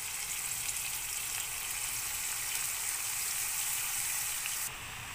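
Chopped spinach frying in oil with turmeric, a steady bright hiss and sizzle throughout, close and even, cutting down slightly at the end.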